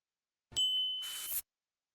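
A notification bell sound effect: one clean, bright ding that rings briefly and ends in a short burst of hissy shimmer before cutting to silence.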